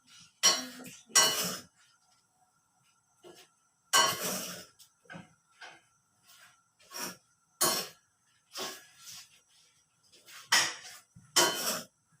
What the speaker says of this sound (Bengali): wow সুন্দর করে বাদাম ভাজা হচ্ছে